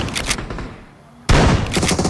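Shotgun blasts in the battle-royale mobile game BGMI: a quick cluster of loud shots, a short lull, then a heavy close burst of repeated firing.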